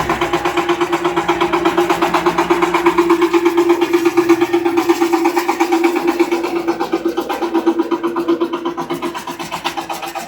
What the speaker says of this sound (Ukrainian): Заїхав тракторець, зараз будемо вантажити на лісне